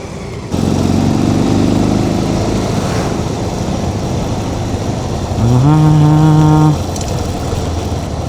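A motorcycle engine runs loud and steady on the road to Tungabhadra Dam, a constant rumbling drone with wind noise, and a brief rising tonal whine near the end.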